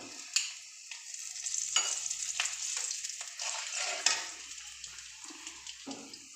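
Cardamom, cinnamon, cloves and large black cardamom fry in hot oil for an egg curry, giving a soft, steady sizzle broken by sharp clicks and pops of spices landing and stirring nearby.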